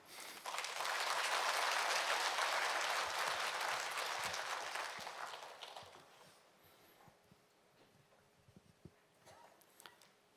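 A church congregation at an Easter dawn prayer service applauds to welcome a pastor, a loud, full round of clapping that fades out after about six seconds into quiet room sounds with a few scattered claps.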